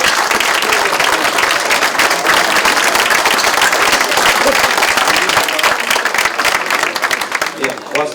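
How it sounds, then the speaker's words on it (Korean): A packed hall at a Korean event for newly elected National Assembly members applauds for the speaker's father, steady loud clapping sustained throughout and fading slightly at the end. "가능하시면 아버지께 좀 박수 한번 주시면"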